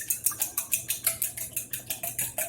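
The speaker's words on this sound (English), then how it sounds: "Whisk our eggs." Eggs being whisked for an omelet: a quick, regular rhythm of around a dozen bright, close clinks of a whisk against a bowl, with no talk.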